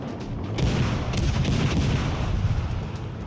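Naval ship guns firing in the video game World of Warships Legends, a loud rumbling barrage of booming shots rolling together for a few seconds, no talk.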